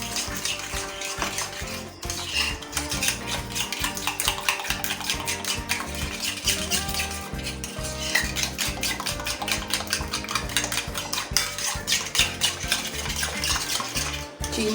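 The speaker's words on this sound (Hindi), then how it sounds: "चीनी के मिक्स होने तक हम इसको अच्छे से फेंटेंगे।" Cream and sugar whisked together in a bowl for a Russian salad, a steady run of fast metallic clinks and scraping strokes continuing throughout, close and fairly loud, with no talking.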